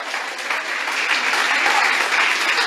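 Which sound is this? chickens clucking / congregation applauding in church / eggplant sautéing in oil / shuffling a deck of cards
congregation applauding in church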